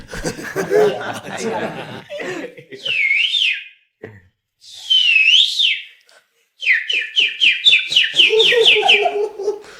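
A person whistles an imitation of a koel call in a live devotional kirtan show, repeated rising and falling whistled phrases that end in a rapid run of notes, with speech and chuckling between them.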